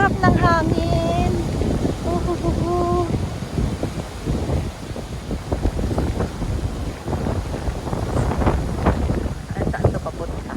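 Wind gusting across a microphone outdoors at a temple site by the sea, a continuous low rumbling buffet throughout, with people chatting over it near the start.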